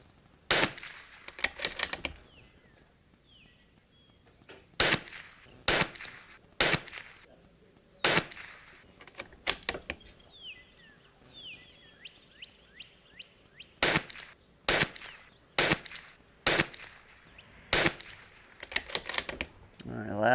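A Bergara B14R .22LR rifle fires in quick sped-up groups of shots, sharp snappy cracks in tight clusters separated by quiet gaps, with brief voices talking between strings.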